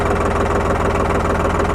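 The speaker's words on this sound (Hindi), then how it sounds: "तो किसान भाई, अगर ट्रैक्टर का स्टार्टिंग साउंड आप देखेंगे तो कुछ इस प्रकार की ट्रैक्टर की स्टार्टिंग" A New Holland 3600 tractor engine idles at 700 rpm, a loud, steady, close diesel thrum with an even low pulsing beat.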